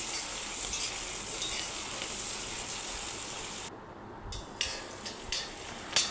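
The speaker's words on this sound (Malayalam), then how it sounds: "അതും കൂട്ടിയിട്ട് നമുക്ക് നന്നായിട്ടൊന്ന് ഇളക്കി കൊടുക്കണം" Sliced onion frying with cumin in a pan, a steady close sizzle that runs throughout, with short scraping stirs near the end as it is turned, and no voices.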